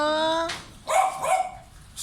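A poodle barks a few times close by, sharp yaps following a steady tonal hum, while people speak in the surroundings.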